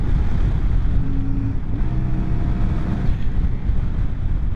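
A CFMOTO Ibex 450 adventure motorcycle runs at full throttle, its engine a loud, steady droning roar blended with heavy wind rush, with a brief rising tone partway through and no talking.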